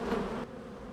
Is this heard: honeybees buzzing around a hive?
yes